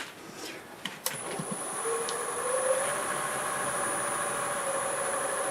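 A wood lathe turns a hard workpiece at 780 RPM while a 1/2 inch bowl gouge is brought to it. A few sharp clicks come early, then a steady motor hum and a thin high whine settle in.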